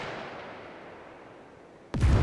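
A grenade in the video game SCUM explodes in one loud, sudden boom near the end, breaking a low, steady background hiss.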